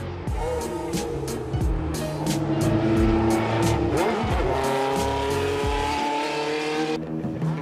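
An Inaltera prototype race car engine roars steadily on the Montlhéry circuit, revving and shifting through gears with loud, continuous mechanical noise and brief tire squeals.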